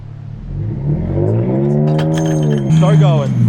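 A brand new truck's engine revs hard as it drives up a beach ramp, a loud rising roar that holds and surges again near the end.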